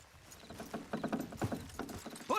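Horses' hooves clip-clop in Red Dead Redemption 2, a rapid uneven patter of hoofbeats at moderate distance, growing slightly louder toward the end.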